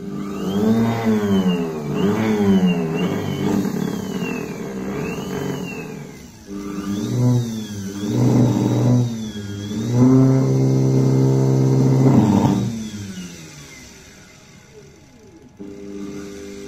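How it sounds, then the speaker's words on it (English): A large 180-volt, 4000 RPM DC motor with a big flywheel attached, whining loudly as it spins up and winds down in repeated surges, its pitch rising and falling before fading away. "This is a pretty big DC motor with a big flywheel attached, and it is 180 volts, 4000 RPM"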